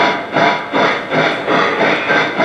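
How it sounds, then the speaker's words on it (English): A Lionel Legacy 2-10-4 model steam locomotive chuffs in a steady rhythmic series of loud hissing steam bursts, about four per second, close and without voices. "You'll notice the locomotive has 4 chuffs per revolution per the prototype."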